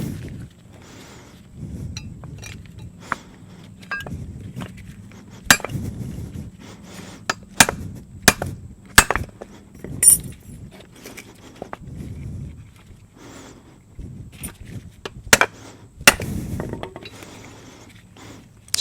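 A brass hammer taps a socket to seat front brake hardware on a Toyota Camry with a 2.2L 5S-FE engine, giving sharp metallic clinks at irregular intervals, close up over a low background hum.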